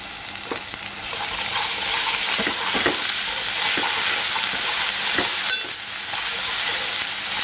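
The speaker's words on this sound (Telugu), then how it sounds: "ఆ తర్వాత అల్లం వెల్లుల్లి పేస్ట్ వేసుకోవాలి." Ginger garlic paste frying in a pan for chicken pakoda curry: a loud, steady hiss of sizzling oil with occasional scraping stirs, close and continuous.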